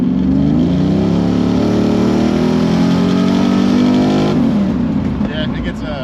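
An LT1-powered third-generation Camaro pulls hard, its engine roaring loud and close with pitch climbing steadily under acceleration before the driver lifts off and it drops away near the end.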